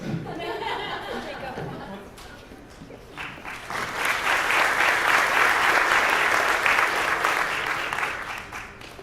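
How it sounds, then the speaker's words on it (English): A Halloween-themed show audience claps, starting softly under some chatter and light laughter, then swelling into a full, loud round of applause that holds for several seconds. "let's give another big round of applause before they rise from the crypt"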